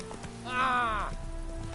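Steady rain hiss in the open-world fantasy RPG The Witcher 3, running throughout, with a short vocal exclamation rising over it near the middle.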